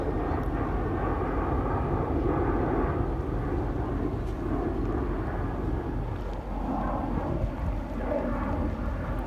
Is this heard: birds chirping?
no